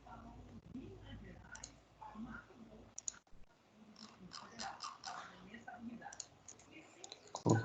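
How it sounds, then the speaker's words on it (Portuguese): A computer mouse clicks in soft, irregular taps, close but fairly faint, mixed with low murmured speech and small mouth or handling noises. "Eu com o mouse aqui é difícil de achar os pontos certos para clicar já"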